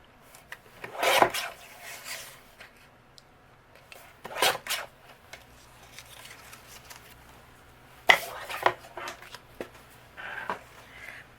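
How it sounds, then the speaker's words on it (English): Patterned paper being trimmed down to a small card panel on a paper trimmer: several short bursts of scraping, sliding cuts and rustling handling, close and moderately loud, separated by quiet pauses. "We're going to trim this down to a panel that measures 4 inches by 5 1/4."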